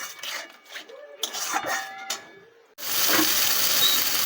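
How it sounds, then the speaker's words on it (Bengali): Ginger, cumin and chilli paste with turmeric fries in a pan with a splash of water for moong dal. Scraping and stirring come first, then a sudden loud, steady sizzle hisses up and runs close and continuous. "এবার একটু সামান্য জল দিয়ে দেবো, দিয়ে মশলাটাকে ভালো করে কষিয়ে নেব।"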